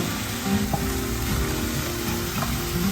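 A teaspoon each of ginger paste and garlic paste sizzles in a hot pan with oil, giving a steady, loud, close frying hiss with light crackles and no pause.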